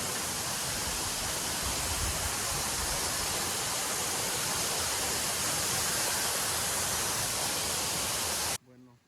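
Don Juan waterfalls in El Salvador roar as a steady, dense broadband rush of falling water, close and loud, continuing unbroken before cutting off abruptly near the end.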